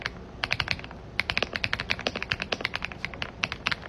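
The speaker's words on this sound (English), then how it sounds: "The best sounding keyboard I've ever heard in my life." Rapid bursts of close, crisp clicky keystrokes on a computer keyboard, typed in quick runs with a brief pause near the start, fairly quiet and alone.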